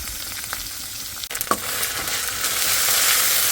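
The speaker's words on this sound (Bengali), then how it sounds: "মাছটা এখানে ভাজিয়ে রেখে দিচ্ছি" Fish frying in oil in a home kitchen pan for a fish curry, a steady broadband sizzle that swells louder after a brief clatter and keeps hissing to the end.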